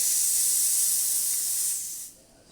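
The steam wand of a La Pavoni espresso machine hisses loudly and steadily for about two seconds, then tapers off as the valve closes, with no talk over it.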